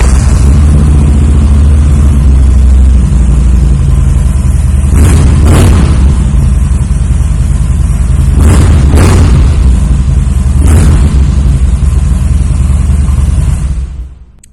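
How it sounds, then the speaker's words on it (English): A 2009 Harley-Davidson Crossbones fitted with a Cobra 2-in-1 exhaust idles loud and close, a deep steady low rumble with a few brief throttle blips, running alone until it cuts off at the end. "that Cobra Exhaust has a really nice low and throaty sound on this motorcycle"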